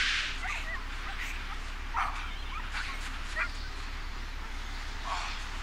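An injured dog in The Walking Dead gives short whimpering yips and barks over a steady background hiss, a few faint cries spaced about a second apart, with no talk.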